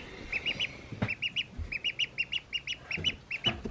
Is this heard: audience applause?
no